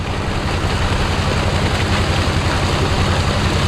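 A steady, loud engine drone from a water pump running beside a red tilapia pond, a constant low rumble with no pauses or talk.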